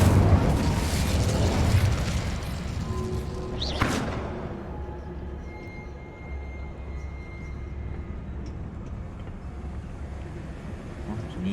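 An Incendio fire spell cast in a wizard video game: a whooshing burst flares up and sweeps upward, then fades into a low rumble, with speech-like game sound beneath.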